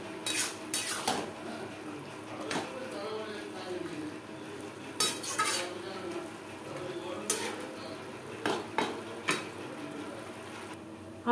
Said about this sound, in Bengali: নাড়াচাড়া করে একেবারে ড্রাই করে নিয়েছি।